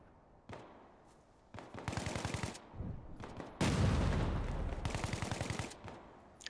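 Several bursts of rapid automatic gunfire in a military tactics video game training session, loud and close, some bursts clearly rhythmic, growing heavier midway with brief pauses between volleys.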